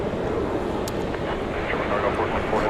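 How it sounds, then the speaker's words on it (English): A Boeing 747-400 pulls out at DFW Airport, heard as a steady, broad engine rumble and roar at moderate distance, continuous throughout with faint wind noise. "So here is the big 747-400 pulling out."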